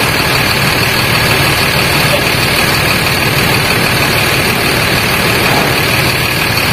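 A Sugeng Rahayu bus rumbles loudly and continuously while parking, its heavy diesel engine idling close by in a steady low drone, with faint voices mixed into the background.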